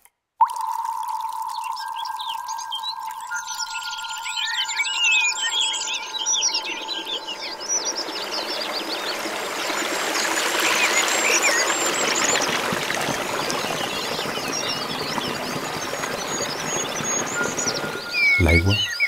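Mountain water flowing and trickling continuously, a steady bright wash with faint bird chirps above it and a sustained tone at the start, moderately loud and without talk.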